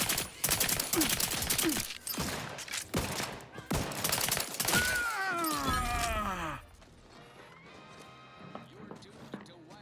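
Rapid automatic fire from a corrosive machine gun in the video game Outer Worlds 2, heard as dense, loud volleys over about six seconds with game voices mixed in. A quieter stretch of in-game ambience follows.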